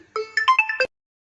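A phone ringtone plays for an incoming call at home, a short bright melodic phrase of several tones that stops abruptly, followed by silence.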